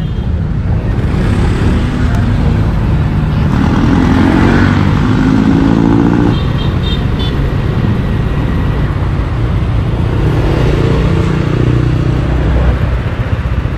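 A motorcycle engine runs steadily nearby, a low continuous rumble with a few louder revving swells, heard alone without talk.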